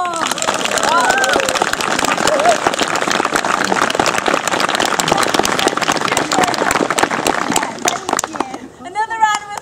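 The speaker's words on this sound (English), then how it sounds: "Can we have a massive round of applause for our door?" An audience at a stage performance of Shakespeare's The Comedy of Errors breaks into loud, dense applause that holds steady for several seconds, with voices mixed in, then thins out near the end.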